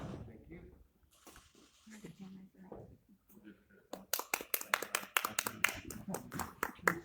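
Scattered hand claps from a small group at a Kansas election candidate forum, a sparse patter of a few people that follows brief talk, fairly close and moderately loud.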